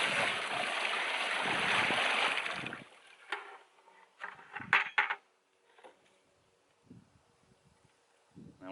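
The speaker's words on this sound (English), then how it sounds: "Take our bucket and we're going to pour that back very quickly into the collection bucket" Sieved clay slurry poured from a bucket into a collection bucket: a loud, steady rushing gush of liquid for about three seconds, then broken splashes, drips and knocks of the bucket trailing off into quiet.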